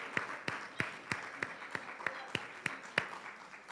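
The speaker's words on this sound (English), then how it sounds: "let's give a round of applause to all of our presenters" Audience applause for conference presenters at a women's healthcare conference, with sharp, evenly spaced claps about every third of a second over a steady wash of clapping hands, moderately loud and continuous.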